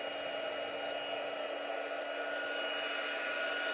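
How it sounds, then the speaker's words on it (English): Embossing heat tool blowing hot air for card making, a steady close whirring blower tone with a constant hum, alone and unchanging throughout. "now I'm just going to take my heat tool and I'm going to get it"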